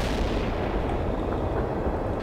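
Artillery fire in the real-time strategy game World in Conflict, heard as a dense, continuous rumble of distant booming blasts that blend into a steady roar with no talking.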